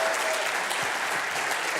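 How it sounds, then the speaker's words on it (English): A room audience breaks into loud, dense applause, continuous clapping from many hands filling the whole short stretch at steady volume. "Brian Lawson, big round of applause."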